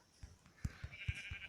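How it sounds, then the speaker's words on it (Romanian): Sheep in the Minecraft video game bleating faintly, a few short low calls in quick succession with a thin high tone running underneath. "Oaie! Unde ești? Aici ești."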